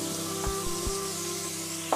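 Potato, cauliflower and other vegetables sizzle in a pan for Bengali vegetable khichuri, a steady close frying hiss with a few soft knocks and scrapes of stirring near the start and end, no voices.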